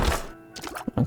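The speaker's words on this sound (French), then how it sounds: "Un coffre." A chest appears in the video game The Binding of Isaac: Repentance, marked by a short cluster of dull thunks and plopping knocks, close and fairly loud, lasting about a second.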